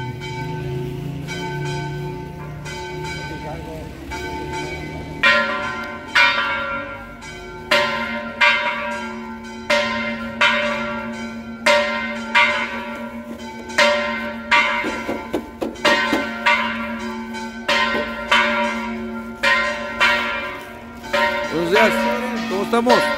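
Church bells peal in a steady repeating series of strong, ringing strikes, loud and close, with a sustained hum of resonance between strokes, heard outdoors during an August 2022 visit to Las Canelitas.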